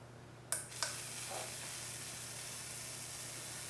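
Electrical sizzling from a Tesla slayer coil with a clip attached, opening with two sharp snaps before settling into a steady, faint crackling hiss over a low mains hum.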